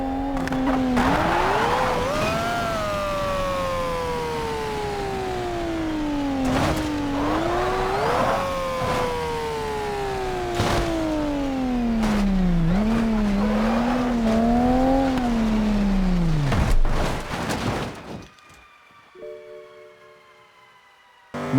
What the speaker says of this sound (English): Toyota Supra.